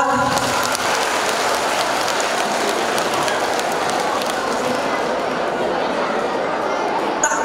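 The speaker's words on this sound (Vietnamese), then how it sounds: "dành một tràng pháo tay cho bạn được không ạ" A studio audience at a comedic Vietnamese quiz show claps for a contestant. The applause is a loud, even wash of many hands that holds steady for several seconds, with faint chatter underneath.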